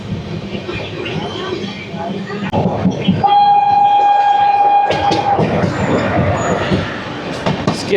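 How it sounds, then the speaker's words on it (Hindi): A sleeper-class coach of the Karnataka Sampark Kranti express pulls out of Jhansi station, rumbling and clattering close by, a long steady horn sounding partway through, with people talking. "चैन पुलिंग के बाद एक बार फिर अपनी ट्रेन निकल चुकी है झांसी स्टेशन से"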